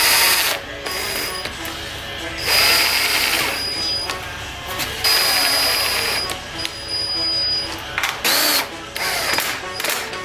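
Bolts being snugged down on a Honda D-series transmission case, a dense run of ratcheting mechanical clicks and whirring bursts, close and fairly loud, broken by short pauses with no talking.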